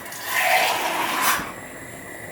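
Water pours into a cooking pot of beans in a short gushing rush that swells and then tapers off within about a second and a half.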